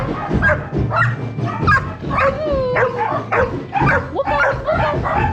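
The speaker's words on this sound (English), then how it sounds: "They're barking out there." Several dogs bark, yip and whimper outdoors in repeated overlapping bursts at moderate distance, with people talking in between.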